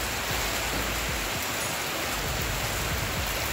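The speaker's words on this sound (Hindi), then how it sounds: "गरज चमक के साथ होने वाली मूसलाधार बारिश ने जल थल एक कर दिया।" Heavy thunderstorm downpour in Lahore, Pakistan: a steady, dense wash of rain hiss with no break, loud and close throughout.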